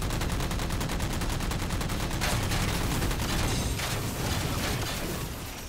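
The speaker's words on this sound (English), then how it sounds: "Being sniped, I'm being sniped from their crack rock, dude." Rapid, dense gunfire from Halo 4 multiplayer, including sniper rifle shots, sounding as a continuous loud barrage with overlapping bursts and no speech.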